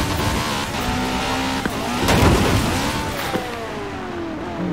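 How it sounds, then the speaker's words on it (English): A Bugatti Veyron drives in Forza Horizon 4, a sustained engine roar with rising and falling gear pitch sweeps, a brief tyre squeal and bumps, loud and close throughout. "I might have to break out the Bugatti for this one. That Bugatti Veyron."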